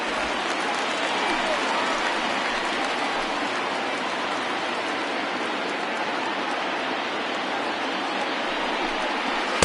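A crowd of over 39,000 at a baseball stadium stands and cheers, a dense, steady roar of voices and clapping holding at full strength throughout with no pauses.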